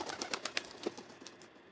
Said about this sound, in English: Another bird. Could this be Mama Bird?